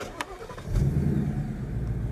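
A 2015 Ford Mustang V8 engine cranks and catches, settling into a deep, loud idle rumble after a brief starter whir.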